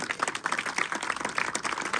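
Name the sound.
applause for a student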